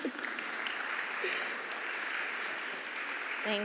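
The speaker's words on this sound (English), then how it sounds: "We can clap." An audience at a community inclusion event claps together, a sustained even patter of many hands at moderate distance, with a brief voice near the end.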